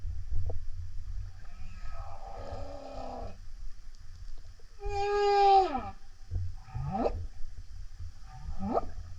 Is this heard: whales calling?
yes